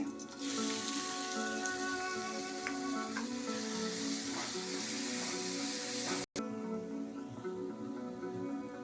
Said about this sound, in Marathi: आता मी कांदा घालते